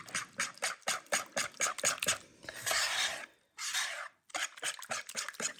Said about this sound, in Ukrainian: Виливаємо стаканчик молочка. Молоко, звичайне, з холодильника. І перемішуємо